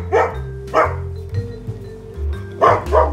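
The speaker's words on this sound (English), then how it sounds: "They always woof while I'm filming." Dogs woof indoors in short loud bursts, several barks spaced across the moment with brief gaps, close to the recorder and alone without talk.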